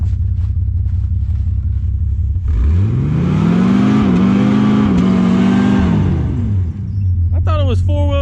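Car engine revving hard while the vehicle is stuck on a log, a loud rising roar that holds steady for several seconds then falls back to a rumbling idle, with brief voices at the end.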